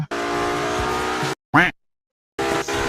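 Engine drone of a car driven in a GTA roleplay video game, a sustained revving tone that cuts out abruptly, followed by a short sharp squeal, silence, then the engine resuming.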